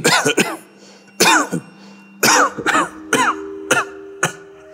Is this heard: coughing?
yes